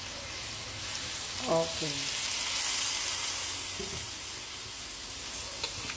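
Soy sauce hitting a hot pan of goat kaldereta, a steady broad sizzle and frying hiss throughout, with a person speaking briefly over it.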